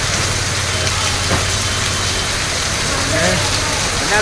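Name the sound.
heavy rain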